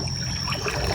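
A river flowing through dense forest below Gunung Petir, a steady close rushing trickle of water with no break in level, and no voices over it.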